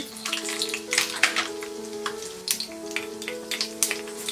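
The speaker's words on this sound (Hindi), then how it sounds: "तेल गरम हो गया है, अब हम इसमें डालेंगे ये राई" Mustard seeds spattering in a small pan of hot oil for tempering, a steady crackling sizzle with frequent sharp pops throughout, close up and alone with no voices.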